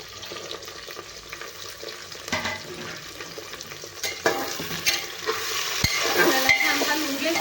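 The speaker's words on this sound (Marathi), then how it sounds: "आता आपण टाकणार आहे टमॅटो टाकून घेणार आहे आणि लगेच आपण आपल्या सगळ्या भाज्या टाकून घेणार आहे वटाणा आणि गाजर" Tomato, peas and carrot are stirred into onions frying in a pan, with a soft sizzle under scraping spoon strokes and clinks that grow busier toward the end; no talk.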